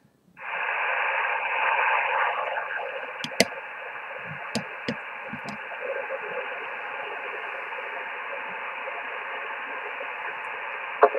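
An Icom IC-R75 receiver set to 14.207 MHz upper sideband hisses with steady shortwave band noise after switching on, with a few faint clicks and brief crackles, no clear voices.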